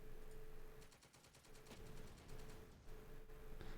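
Turret machine gun laying down suppression fire in a video game, rapid evenly spaced bursts of shots over a constant low hum, fairly distant and soft.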